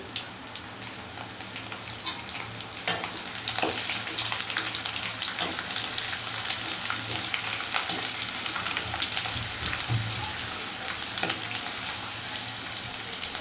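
Garlic and dried red chillies fry steadily in hot oil in a pan, a dense continuous crackling sizzle with occasional sharper pops, close and fairly loud, with no talk.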